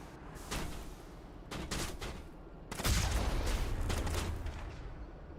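Sniper fire in the Mass Effect video game: several bursts of sharp shots, with a heavier, booming volley near the end. The firing is moderately loud and stands alone, with no talking.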